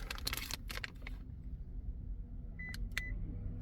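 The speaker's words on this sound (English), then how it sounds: "2 beeps. That's good." Two short electronic beeps sound in quick succession from a 2022 Toyota 4Runner during key programming, following a few seconds of clattering and rustling.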